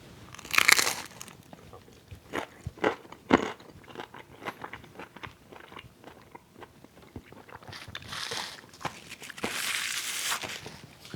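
A crunchy taco from a San Diego taco shop is bitten several times, giving sharp close crunches followed by quieter chewing and crinkling of the wrapper, with no talking.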